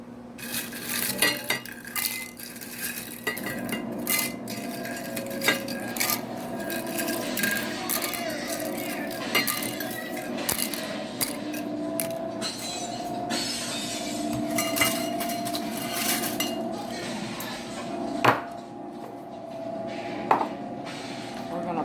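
Scorpion, ghost and Carolina Reaper peppers dropped into a Ninja blender jar, with light clinks, knocks and rustling of handling, a few sharper taps standing out, under faint background voice.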